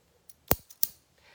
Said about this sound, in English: Titanium scissors, these are my go-to